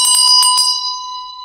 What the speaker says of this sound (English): I need to ring the bell.